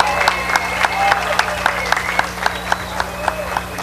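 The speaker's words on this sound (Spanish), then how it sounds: "Un aplauso grande para los funcionarios de la administración." A crowd applauds municipal administration officials at a public ceremony in Montenegro. A dense, sustained clapping is punctuated by regular, sharper rhythmic claps, with a voice audible over it.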